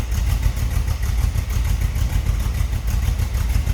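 A 1932 Ford Roadster street rod's 350 V8 with a small cam idles nearby with a lumpy, loping rumble, steady pulses repeating throughout, loud and unaccompanied by voices.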